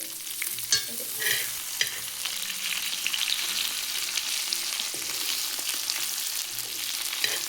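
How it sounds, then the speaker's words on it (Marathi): Boneless tilapia fish pieces fry in hot oil with a loud, dense, continuous crackling sizzle that holds steady throughout, with faint scattered clicks. "तर पीस बघा किती भारी फ्राय होते"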